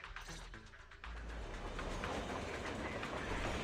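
A train rolling past in Zenless Zone Zero, a rising rumble that swells into a loud, close, continuous roar with rhythmic rail clatter, heard alone without talk.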